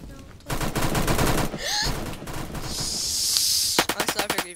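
HK416 rifle fire in a shooter video game, rapid bursts of loud gunfire at the start and again at the end, with a hissing effect and a rising whoosh in between.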